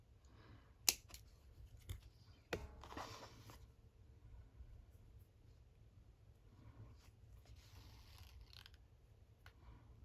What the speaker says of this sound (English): So I'm going to just trim a little bit off.